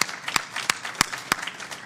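An audience at a telehealth panel discussion gives a brief, sparse round of applause for the panelists, just a handful of distinct, well-spaced claps with quiet room ambience between them.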